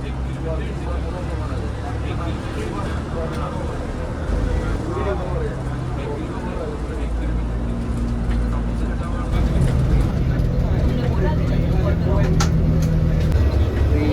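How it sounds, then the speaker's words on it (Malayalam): An airport apron bus slowly pulls away, its low engine rumble steady and close, then growing louder and heavier partway through, under nearby voices. "അങ്ങനെ നമ്മുടെ വണ്ടി പതുക്കെ എടുത്തു തുടങ്ങി"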